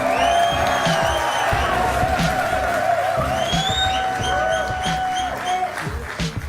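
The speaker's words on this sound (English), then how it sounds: "Come on, guys, a round of applause." Crowd at a Clash Royale tournament semi-final applauding and cheering, a dense continuous roar of clapping with whoops and whistles rising above it, heard close and loud throughout.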